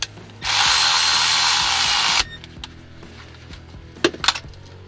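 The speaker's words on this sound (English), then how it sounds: "Let's go ahead and put the plug back in it. And let's tighten her up." A powered ratchet tightens the rear differential drain plug on a Honda Element: one steady whirring burst of almost two seconds, close and loud, then a few light metallic clinks.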